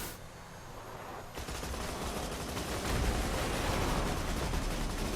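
Gunfire and explosions in Borderlands 2, heard from inside a vehicle as a steady, dense wash of rapid shots and blasts that grows a little louder partway through, with no talking.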